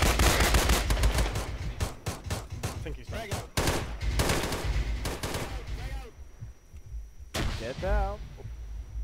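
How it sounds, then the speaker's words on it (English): Rapid bursts of gunfire crack repeatedly at close range during a training mission building assault, loud and sharp, with people shouting in between as the shooting tapers off. "Can you hear gunfire, guys?"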